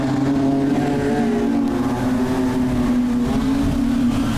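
Production sedan race cars roaring around Rockhampton Speedway during an A-Main, a loud steady engine drone with sustained tonal whine throughout.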